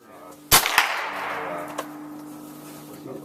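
A single sharp firearm gunshot cracks out loudly at a shooting range during firearms safety instruction, followed by a short echoing tail and a faint second report, with a steady hum underneath.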